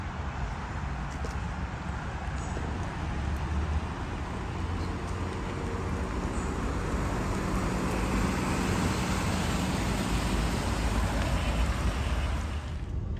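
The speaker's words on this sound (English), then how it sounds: "shall we get it out on the road and see what it's like to drive with that manual gearbox?" A 2007 Volvo S80 2.5T with manual gearbox driving on the road, a steady broadband hum of engine, tires and wind heard from inside, unchanging and without talk.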